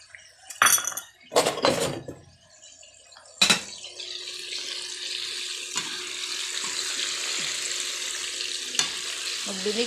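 Camote cue and banana cue frying in a pan: a few sharp clanks of stirring and scraping up front, then a steady, close sizzle of hot oil with occasional light knocks of the utensil.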